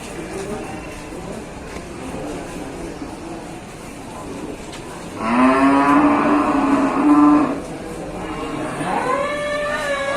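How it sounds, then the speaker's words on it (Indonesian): Aceh cattle at a livestock market, one lowing in a drawn-out moo of about two seconds, followed by a rising call, over a steady murmur of crowd noise and voices. "kita juga menemukan seekor sapi jantan tangguh berjenis sapi Aceh"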